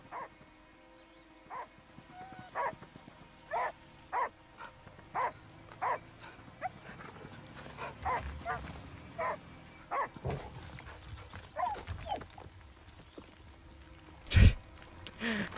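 A hunter's dog in the game Last Day of June barks repeatedly in a steady, evenly spaced series over constant rain pattering on surfaces, with a louder thud near the end.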